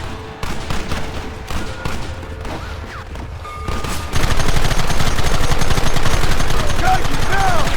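Gunfire in Red Dead Redemption: rapid, dense shots that grow into a heavy, continuous barrage partway through, loud and close, with shouting voices mixed in.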